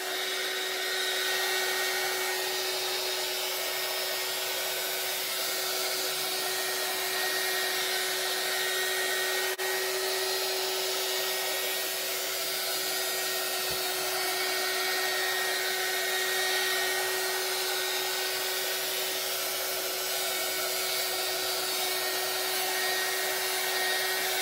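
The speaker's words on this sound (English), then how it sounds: "I'm going to turn on the embossing gun, and I'm going to start pushing it in from the sides towards the center" An embossing heat gun blows across alcohol ink during ribbon painting, giving a steady, close whirring hum with a faint whine that runs unchanged throughout, alone and without speech.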